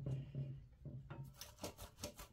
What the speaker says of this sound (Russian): 170 граммов сливочного масла натираем на крупной терке